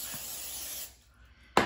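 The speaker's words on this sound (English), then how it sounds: "So now I'm going to spray it again on top." A single short burst of cooking oil spray from an aerosol can onto zucchini near the end, after a stretch of quiet hiss.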